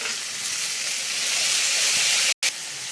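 Chopped raw tomatoes frying in a hot pan, a loud steady hiss and sizzle close up that briefly cuts out near the end before resuming, with no speech.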